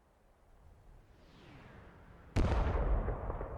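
Artillery shells in the combat simulator DCS: a faint rising whistle of an incoming round builds, then a sudden loud explosion lands and its rumble decays over the last second.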